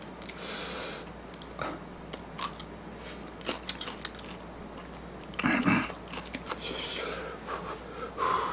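Close-up eating of thick, chewy instant ramen noodles, with wet slurping, biting and chewing sounds coming in irregular bursts and a brief louder slurp midway.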